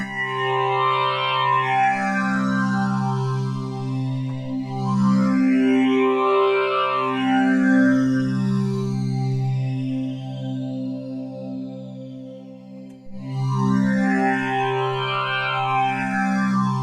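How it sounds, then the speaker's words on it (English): A sustained Minifreak synthesizer chord with a sweeping flanger effect, its jet-like whoosh rising and falling in slow repeated arcs, loud and alone. "Flanger."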